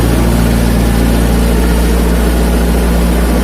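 Miller Big Blue 500X Eco Pro engine-driven welder running steadily with a loud, close, continuous low drone and strong harmonic hum, its engine holding a raised RPM throughout with no talking.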